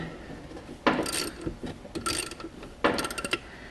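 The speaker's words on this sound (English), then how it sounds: "first break this bolt loose" A clutch bolt on a 2017 Polaris Sportsman 850/1000 being broken loose with a wrench, a few close ratcheting clicks and metallic creaks in short bursts, with no talking.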